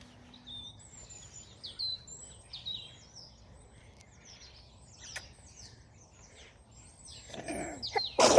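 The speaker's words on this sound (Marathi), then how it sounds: "बघा एक पक्षी खूप सुंदर आवाज देतोय" A bird sings a series of clear, whistled phrases against a quiet background, followed near the end by a short burst of louder nearby noise.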